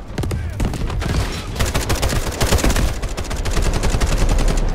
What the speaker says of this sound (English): People are literally shooting me